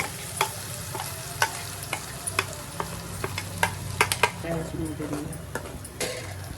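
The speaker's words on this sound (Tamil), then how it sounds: "இது நல்லா எண்ணெய் பிரிஞ்சு வரைக்கும் வதக்கிக்கோங்க" Onion-tomato paste with mustard seeds and curry leaves sautés in oil in a kadai, giving a steady sizzle punctuated by frequent sharp scrapes and taps of a spatula against the pan.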